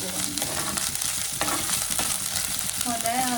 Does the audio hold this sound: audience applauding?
no